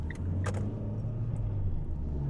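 A 2007 Fiat Grande Punto with a robotized manual gearbox accelerates from inside the cabin, a steady low engine drone and road rumble running throughout with a couple of brief higher clicks near the start.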